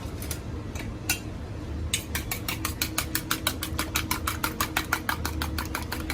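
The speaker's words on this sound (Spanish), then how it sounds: "Now beat the egg." An egg is beaten quickly in a bowl, making a fast, even run of sharp clicking taps that starts after a few scattered strikes and continues steadily and close by.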